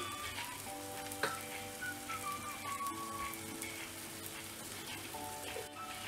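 Drumstick leaves ragi roti frying in a little oil on a hot pan gives a steady, soft crackling sizzle throughout, with faint clinks and small pops now and then.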